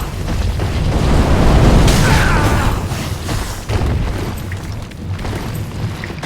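A dragon in Dark Souls 3, on the Archdragon Peak area, looses a heavy booming burst of fire breath, a deep roaring rush that swells loud in the first two seconds and then rumbles on more unevenly.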